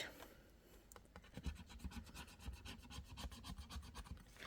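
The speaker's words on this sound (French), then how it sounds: "nous allons gratter" A scratch-off card scratched quickly and steadily up close, giving a rapid, even rasping rhythm of short strokes that runs through the whole stretch without speech.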